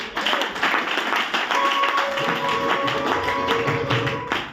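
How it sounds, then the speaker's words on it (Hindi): An audience at a network marketing seminar claps together in a steady, dense burst lasting a few seconds, close and moderately loud. A faint tone hums beneath it. "तो नहीं है तो ताली तो बजा दो यार।"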